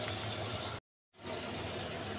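Chopped onions frying in a pan for a wedding-style chole curry, giving a steady broadband sizzle that cuts out briefly to silence and then resumes at the same level.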